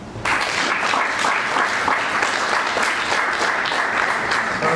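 Applause breaks out suddenly at a formal ceremony and holds as a dense, even wash of audience clapping, fairly loud, with no voices over it.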